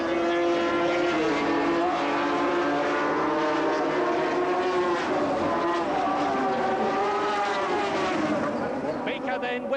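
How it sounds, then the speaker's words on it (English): Formula 750 racing motorcycles roar around Brands Hatch in 1977, a loud, continuous engine howl with shifting pitch as bikes sweep past, with commentary running over the top. "Steve Baker goes up to Druids, making it look oh so easy, as he sweeps round the outside and then the inside of the slower riders"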